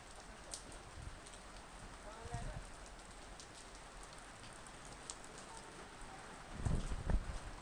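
Rain falls steadily at a resort in Bhaktapur, Nepal, a soft continuous patter of drops on surfaces, fairly quiet, with a few louder close splashes near the end.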